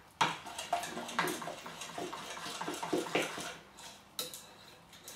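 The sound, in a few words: whisking ganache with double cream in a bowl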